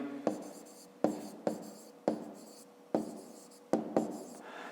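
Marker or pen strokes on paper for a math exercise about recording scale readings, six short scratchy bursts at a steady pace, close and fairly quiet, with no talking.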